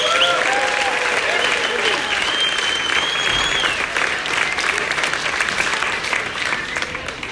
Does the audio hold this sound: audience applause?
yes